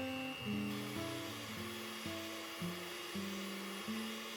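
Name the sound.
electric mixer beating eggs in a bowl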